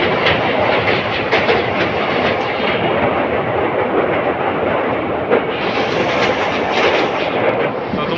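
An express train rolls along the New Coochbehar–Bamanhat line, heard from on board as a loud, continuous rushing rumble with rhythmic clatter from the wheels and rails, unbroken for the whole stretch.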